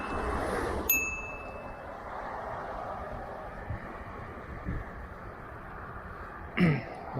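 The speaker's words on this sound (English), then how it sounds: "rang the bell" A Kqi3pro electric scooter's bell gives a single bright ding while riding through Central Park, heard over a steady rumble of wind and road noise, with a duller knock near the end.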